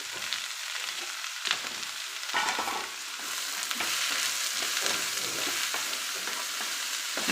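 Chopped bottle gourd sautés with onions and asafoetida in a pan, producing a continuous close sizzle with intermittent stirring scrapes and soft knocks of a spoon.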